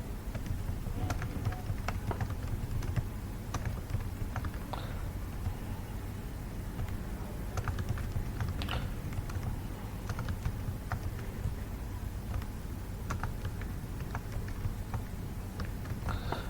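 Fingers typing values into an Excel spreadsheet on a computer keyboard, a steady stream of close, soft key clicks with irregular rhythm over a constant low background hum, without speech.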